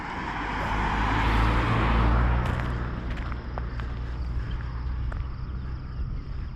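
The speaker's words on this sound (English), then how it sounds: "Now you notice a little uptick in traffic." Road traffic passing on a road through the badlands. A car swells in, rumbles past fairly close and fades away, followed by steady low road noise with faint scattered ticks.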